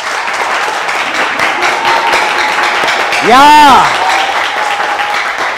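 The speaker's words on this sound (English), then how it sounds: "A round of applause" Studio audience applauding on a TV quiz show, continuous crowd clapping with a host speaking and a brief rising whoop-like cheer or sound effect midway.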